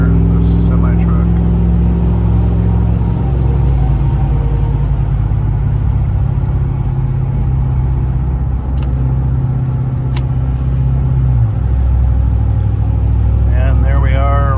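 A car fitted with a Rough Country exhaust cruises at freeway speed near 65–70 mph past a semi-truck, its deep steady engine drone and low exhaust rumble loud and continuous, with a brief shift in tone near the end.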